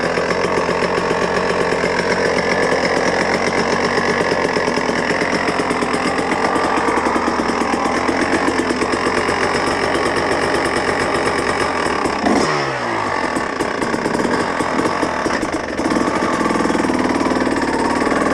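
A cold motorcycle engine, fitted with a newly updated fuel map, starts on a near-freezing morning in North Yorkshire and settles into a steady, loud idle close by, with a brief dip and change in note partway through.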